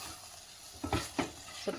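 Ridge gourd palya cooks in a pan with a quiet, steady low sizzle, broken by a few soft scrapes of stirring.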